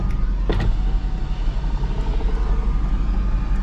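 A Nissan 240SX with an SR20DET engine idling on its first start, a loud steady low rumble with slight uneven pulsing, heard close.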